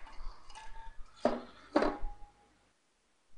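Paper lots shuffled by hand in a container for a Dota 2 tournament group draw, a few close rustling, clinking shakes in quick bursts, then the sound stops into near silence.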